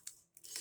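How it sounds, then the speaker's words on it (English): Scissors snipping through stiff crinoline while a knot headband fascinator is made, giving two or three quick close crisp cuts in a short burst with no talk. "your scissors and you cut out just a little."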